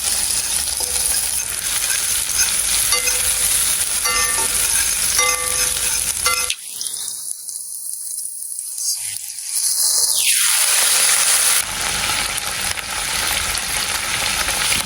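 Seasonings sautéing in a pan in an off-grid Jamaican kitchen, a loud steady frying hiss with light clinks, briefly muffled midway before returning, no talk.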